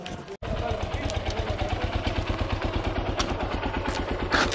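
A motorcycle on a ranch idles and runs with a steady rhythmic engine thump, close by, while people talk over it.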